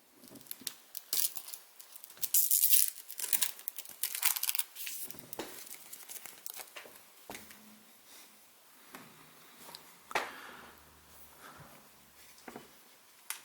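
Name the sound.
peeling plastic protective seal off a dome camera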